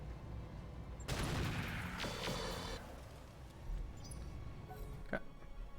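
Autocannon fire in the Battletech game, with a burst of rapid, loud shots lasting about two seconds, followed by quieter rumbling and one sharp final crack near the end.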